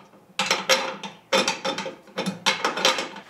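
A magic wrench slipping and chewing the corners of a small 1/2 inch nut gives sharp ratcheting clicks in several quick bursts with short pauses between them. The sound is close and moderately loud, with no talk.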